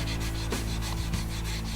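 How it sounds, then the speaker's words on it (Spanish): A stainless steel exhaust is rubbed down with 400-grit sandpaper, a close, quiet, steady rasping with repeated strokes under a constant low hum. "Le pasamos la lija 400 para ir disminuyendo los rayones que hizo la lija 200"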